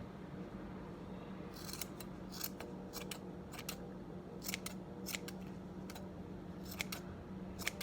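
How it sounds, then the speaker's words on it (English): Scissors snip excess yarn in a quiet indoor setting, a series of sharp, close clicks coming irregularly, several spaced across the stretch, over a low steady background hum. "I'm going to take my scissor, cut the excess off"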